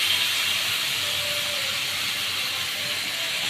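Marinated pointed gourd poured into hot spiced oil, giving a loud, continuous frying sizzle that stays level and close for the whole stretch, with no talk.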